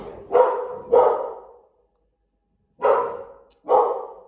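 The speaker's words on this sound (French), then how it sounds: "mes chiens ne sont pas contents parce qu'ils croient qu'on attaque leur maison" Two dogs bark at home, set off by wind banging the shutters: two pairs of sharp, close barks separated by a second of silence.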